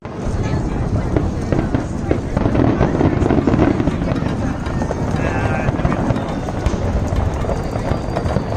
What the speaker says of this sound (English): you just saw some fireworks that I went to